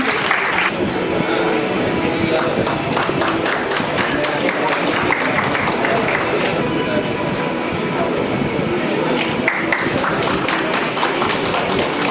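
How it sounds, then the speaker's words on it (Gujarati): A crowd applauds an honoured guest at a ceremony for the launch of the Vande Bharat train service in Saurashtra, with dense, loud clapping that holds steady throughout. "આપણે એમને તાળીઓથી વધાવશું"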